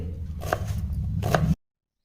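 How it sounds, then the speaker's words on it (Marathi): A couple of sharp knife chops finely cutting onions on a board, spaced apart over low kitchen background noise, ending abruptly. "दोन कांदे घ्यायचेत एकदम बारीक चिरून घ्यायचेत"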